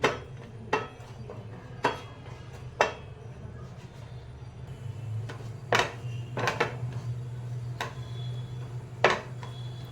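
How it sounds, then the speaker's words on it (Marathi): Cashews and almonds being roasted in ghee in a pan for sweet potato halwa, with a low steady hum beneath a series of sharp metallic clinks and scrapes of a spoon against the pan, spaced a second or two apart. "आणि काजू घालून घेणार आहे थोडेसे रंग येईपर्यंत भाजून घेणार आहे"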